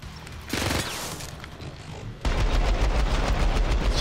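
Loud, dense bursts of automatic gunfire from the video game Syndicate, a first volley followed by a heavier, sustained barrage of rapid shots.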